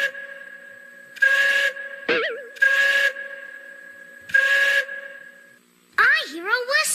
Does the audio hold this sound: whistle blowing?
yes